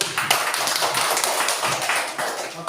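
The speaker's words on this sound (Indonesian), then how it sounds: "tepuk tangan dulu" Schoolchildren in a classroom clapping their hands together, a dense, loud, continuous patter of many small claps for a few seconds.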